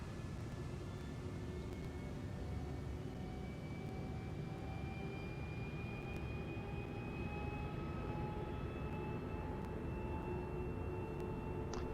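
Anvil Gladiator ship accelerating in Star Citizen without afterburner, a steady roaring engine wash with rising whining tones that climb gradually over several seconds, constant and moderately quiet.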